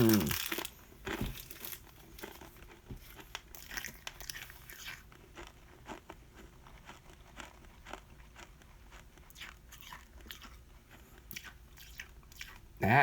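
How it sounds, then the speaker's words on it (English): Wrapper of a 1971 Topps baseball card pack crinkles as stale gum is unwrapped, followed by steady chewing and crunching that runs throughout, close and fairly quiet, with a little talk mixed in. "We got some chewing gum here."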